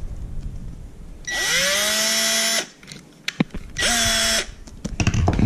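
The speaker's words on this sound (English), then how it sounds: "you're gonna drill a hole into each end of the bottle cap" A power drill whines in two bursts through a plastic bottle cap, the first about a second and a half long, the second shorter, with the pitch rising as the motor spins up, close and loud.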